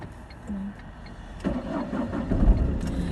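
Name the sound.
car engine starting and idling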